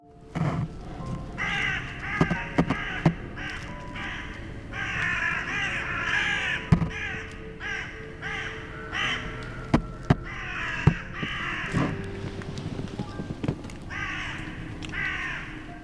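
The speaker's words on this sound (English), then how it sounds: "something disturbs the crows, causing them to call loudly" Several crows caw loudly and repeatedly at a campsite, their harsh calls overlapping continuously, with occasional sharp clicks and knocks in the background.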